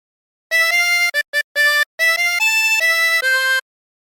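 A phrase of the sea shanty Wellerman played on a 16-hole tremolo harmonica, bright wavering reedy notes in short detached bursts and longer held tones, clear and close with no talk.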